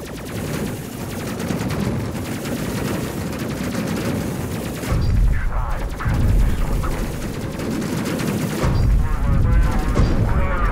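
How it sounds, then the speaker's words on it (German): Explosions boom loudly amid continuous rattling gunfire in the video game Space Crew, with heavy blasts hitting at intervals throughout. "die Explosionen sind richtig cool"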